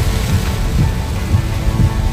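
Heavy rain pouring down during a spring trip in Grožnjan, Croatia, a steady dense wash of noise with low rumbling underneath, continuous and loud throughout with no talk.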